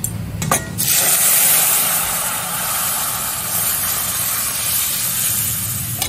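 Mung dal cooked with pointed gourd is poured into a hot wok of fried tempering, setting off a loud, close, continuous hiss that stays strong and steady throughout after a short splash at the start.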